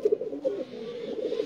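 Sialkoti pigeons coo close by in low, rolling, repeated calls that run steadily through the short moment with no other sound.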